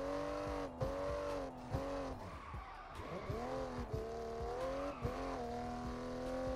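A video game car held in fifth gear drones at a high, steady engine pitch while drifting through traffic. Its tone dips and rises as tires squeal in bursts, and the engine stays loud and continuous throughout.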